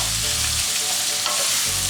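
Onions frying in a pan for pepper chicken, a loud, dense, continuous sizzle with stirring scrapes, close up and with no voices.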